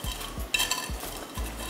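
Pancit canton noodles being stirred in a pan of garlic butter shrimp broth: soft, regular scraping and thumping strokes about twice a second, with a brief clink of a utensil against the pan, close by and fairly quiet.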